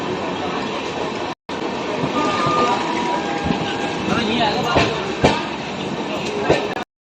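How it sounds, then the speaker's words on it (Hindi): The Gomti Express train rumbles and clatters along the rails into Firozabad station, wheels clacking and brakes faintly squealing as it slows, with a brief cut near the start. "लखनऊ से 286 किलोमीटर की दूरी तय करने के बाद गोमती एक्सप्रेस पहुंच चुकी है फिरोजाबाद"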